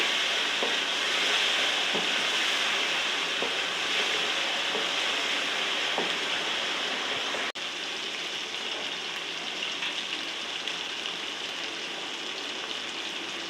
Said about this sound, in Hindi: टमाटरों के साथ इसी तरह लहसुन अदरक के पेस्ट को भी भून लेती हूँ मैं